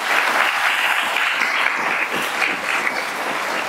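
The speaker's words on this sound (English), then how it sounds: "Let's give them a round of applause." Audience applause at a convocation, a continuous wash of many hands clapping, loud and even for several seconds.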